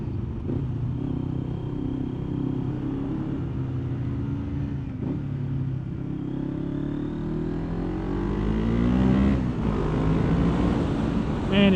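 A Yamaha Vmax motorcycle with a Delkevic exhaust accelerating on a winding mountain road, its deep engine rumble steady at first, then climbing in pitch and growing louder toward the end, with wind noise throughout.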